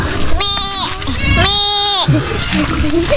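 A loose goat on a backyard farm gives two loud, drawn-out bleats close by, followed by scattered voices and a brief splash.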